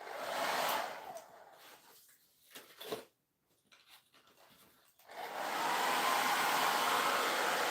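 Hair dryer blowing steadily while drying part of a miniature wire welder project, loud at the start, cutting out briefly in the middle with small handling noises, then roaring back on continuously; no speech.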